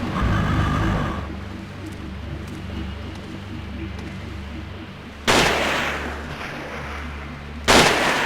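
Gunfire in the survival horror video game SIREN, with a steady low rumble running through most of the clip and two sudden loud shots, one near the middle and one close to the end.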